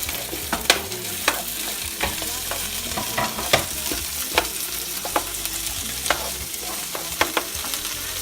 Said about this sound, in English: Remember, you want your pan hot. We're going to add in some peppers and onions.